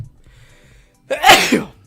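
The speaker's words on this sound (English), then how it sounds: "I'm gonna sneeze" A single loud, close sneeze from a person with allergies, a sharp burst after a brief near-silent pause.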